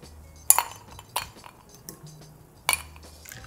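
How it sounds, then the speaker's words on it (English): Ice cubes clink and clatter into a glass while a spiked sorrel Christmas cocktail is made, four or five distinct sharp knocks spaced over a few seconds, close and clear with no talking. "Put some ice in my glass."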